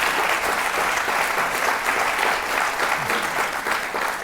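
A live audience at an evening talk breaks into loud, sustained applause, a thick continuous roar of clapping that stays even across the whole stretch.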